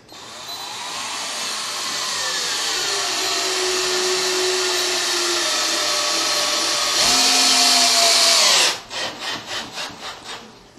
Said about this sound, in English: Now we're going to start screwing down the brackets to the floor.